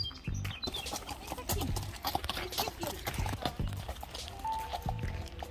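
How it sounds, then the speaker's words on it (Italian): Horse hooves clip-clop in an uneven walking rhythm on pavement nearby in Munich's Englischer Garten, with scattered background noise and faint animal sounds. "Qui c'erano i cavalli che controllano"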